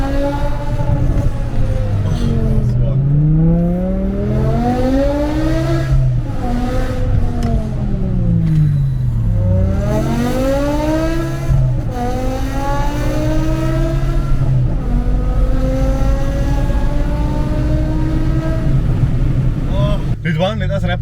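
A BMW M car engine revs loudly again and again, its pitch climbing and falling in long sweeps, close and powerful, with voices talking over it.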